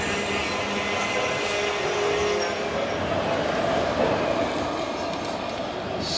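The Marathwada Express rolls along at speed, a steady broadband rumble and rattle of the carriages heard from inside, constant and fairly loud throughout with no talk.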